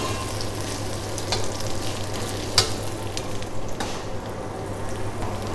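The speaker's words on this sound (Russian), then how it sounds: "Наш лук обжарился. Добавляем лисички." Chanterelle mushrooms sizzle and crackle steadily in a hot pan with fried onions, with a few sharp stirring clicks partway through.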